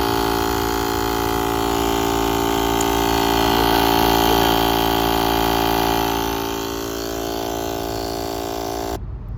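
A portable air pump runs steadily while inflating a deflated car tire at the roadside. It gives a loud, close, continuous humming drone with a slight swell midway, then it cuts off near the end.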